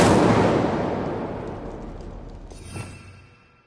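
A fiery spell blast in the Hogwarts Legacy video game, a loud whooshing burst at the start that fades over a few seconds, followed by a smaller crackling pop near the end.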